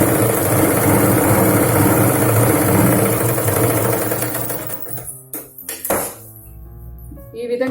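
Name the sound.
sewing machine stitching a Punjabi dress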